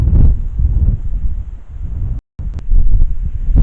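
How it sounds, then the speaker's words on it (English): Strong gusty wind buffets the microphone outdoors in a churchyard, with loud rumbling blasts that briefly cut out before returning, and no talking. "Oh, it's a bit blustery."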